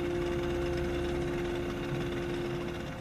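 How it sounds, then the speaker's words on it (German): A repaired engine in a farm machine shed running again, a steady, even mechanical hum with a constant tone and no pauses, moderately loud throughout. "Über 4 Stunden arbeitet er an dem Motor, dann läuft er wieder."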